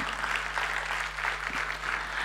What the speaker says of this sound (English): So can I have some claps for him?